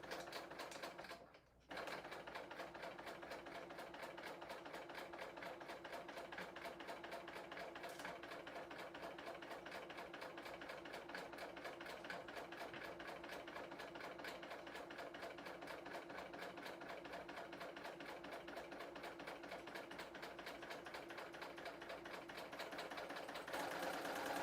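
A serger stitches pintucks on knit fabric with a stretch needle, running slowly in a fast, even mechanical chatter that continues for the whole stretch after a short pause near the start; nobody speaks.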